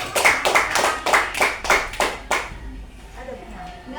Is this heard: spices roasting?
no